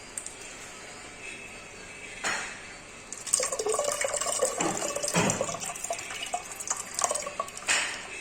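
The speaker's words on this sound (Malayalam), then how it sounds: "പുളി പിഴിഞ്ഞൊഴിച്ചു റെഡി" Squeezed tamarind water is poured while making idicha rasam. A faint trickle gives way to louder close splashing and pouring from about three seconds, with drips and small splashes continuing to the end.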